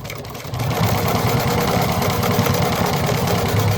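Sewing machine running steadily, stitching and backstitching a fabric Posh Bag; a brief quiet start, then a continuous loud mechanical whir with a fast rhythmic clatter that holds to the end.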